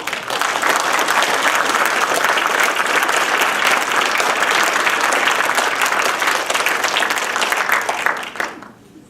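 Sustained audience applause fills a lecture hall at an evening university talk on Walter Kaufmann and Nietzsche, dense and steady for about eight seconds before thinning out and fading at the end.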